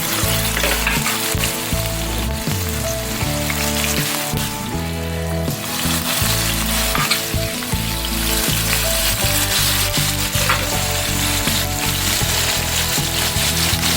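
Sardine steak frying in a pan for Jamaican sardine rice, giving a loud, steady, dense sizzle that fills the whole stretch alone, with no voice over it.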